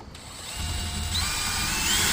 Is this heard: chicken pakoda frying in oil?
no